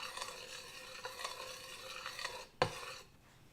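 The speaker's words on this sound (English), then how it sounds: "Just kind of whisk this in until there's no more lumps" Whisk stirring a thick, lumpy paste in a pan for a beet and basil risotto, a steady scraping rhythm with repeated strokes and a sharp clink near the end before it falls quiet.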